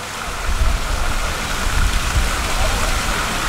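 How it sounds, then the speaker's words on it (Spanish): Steady rushing spray of water jets from Blastoise in the Pokémon Go mobile game, a continuous broadband wash throughout with faint voices underneath. "Toda esa agua que escuchan es mi Blastoise"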